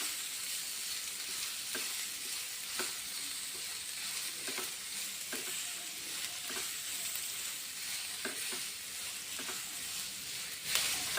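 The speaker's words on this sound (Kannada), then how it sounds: "ಈಗ ಶುಂಠಿನ ಹಾಕಿ ರೆಡ್ ಕಲರ್ ಬರುವ ತನಕ ಫ್ರೈ ಮಾಡಬೇಕು." Ginger fries over high flame in a pan with a continuous faint sizzle. Soft, intermittent clicks of stirring sound throughout.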